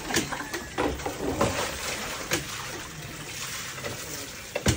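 Water runs from a tap in a home where laundry is being done, a continuous splashing rush with scattered clunks and knocks on top, fairly close, with no talk.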